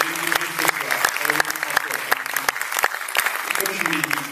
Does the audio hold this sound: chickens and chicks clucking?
no